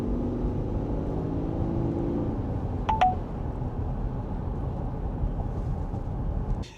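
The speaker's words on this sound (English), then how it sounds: "it can still send notifications through a beeping or an audible tone" Inside a moving Subaru, a short double electronic beep from a navigation app alert sounds once over the steady hum of road and engine noise.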